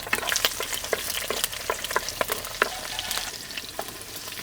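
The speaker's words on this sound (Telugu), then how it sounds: "నూనె వేడెక్కగానే చీలికలు చేసుకున్న పచ్చిమిరపకాయలు వేసుకుందాం" Slit green chillies sizzle and crackle in hot oil in a pot, a steady close frying hiss with frequent sharp pops and spits throughout.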